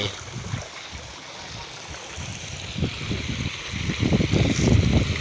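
Water flows along a narrow irrigation canal into a rice paddy, a continuous rushing wash with irregular low splashes that grow louder toward the end, mixed with some wind buffeting the microphone.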